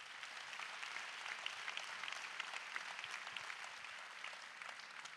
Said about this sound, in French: vous pouvez à nouveau les applaudir